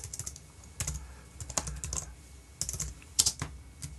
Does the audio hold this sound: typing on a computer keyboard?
yes